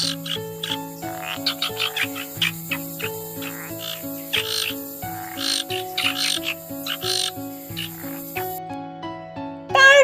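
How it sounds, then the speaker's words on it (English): Frog calls in rapid repeated croaks and tonal notes, layered and rhythmic, dense and close, with a brief louder burst at the very end. "frog"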